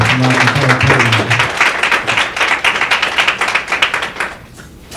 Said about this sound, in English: Let's have a round of applause for the whole team here from Rockland Federal Credit Union.